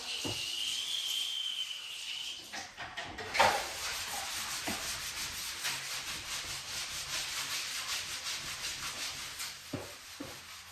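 A Scrub Daddy sponge scrubs a surface with steady, close rubbing and swishing strokes, continuous for most of the stretch with a brief louder scrape partway through, while a high tone is heard at the start.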